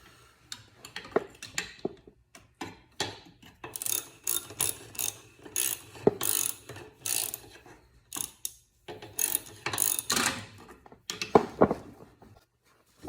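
A ratchet wrench tightens the oil filter cover bolts on a Yamaha Big Bear 350 ATV, with close, crisp bursts of rapid clicking broken by short pauses, repeating throughout.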